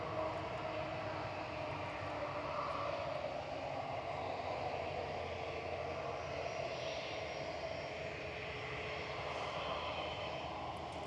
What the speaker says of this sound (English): Singapore Flight 52, heading over to Houston, Texas, with its 5th Freedom Flight 9D SMI and A350-900 operating this today